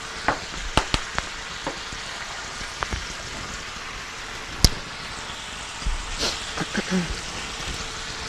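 Lemon-pepper-seasoned chicken pieces frying in a home kitchen pan, giving a steady soft sizzle with sharp clacks and clatter of utensils near the start and a few brief handling noises toward the end.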